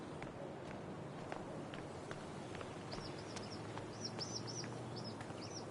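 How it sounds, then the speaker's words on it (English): A bird in the video game Life is Strange: True Colors gives a series of faint, high, repeated chirps in the second half, set over a low steady ambient hum with soft footstep-like taps. "I hear a bird."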